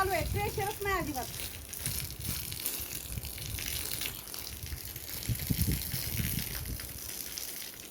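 Water splashes and gushes across a dirt courtyard, a steady low spattering close by, with a voice speaking briefly at the start.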